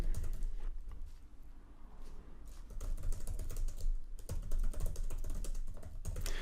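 Rapid typing on a computer keyboard, a close, steady clatter of keystrokes with brief pauses between bursts.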